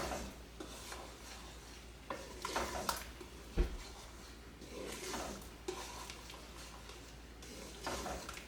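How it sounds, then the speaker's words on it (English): Spoon scraping and stirring through a thick jam-like mixture boiling in a pot, with soft bubbling and occasional clinks against the pot, moderately faint and close, no talking. "I'm going to bring this up to a boil again, and I'm going to boil it for 1 minute. Continuing to stir."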